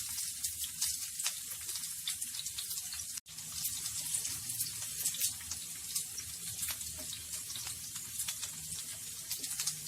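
Okra (bhindi) frying in oil in a pan over a medium flame, a steady dense crackling sizzle that runs throughout, close and even, with one brief dropout.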